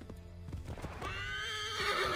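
A horse in the video game Assassin's Creed 3 gives a drawn-out neigh over the clip-clop of hooves, moderately loud against the game's ambience, with no speech.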